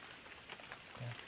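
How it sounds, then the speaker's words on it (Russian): Steady rain falls in a forest, a soft, even hiss of drops on leaves and ground with no voices, brief and fairly quiet throughout. "Но по факту дождь фигачит."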